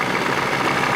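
A Johnson 40 hp outboard motor idles low and steady, close and fairly loud, with a continuous even rumble and no talking.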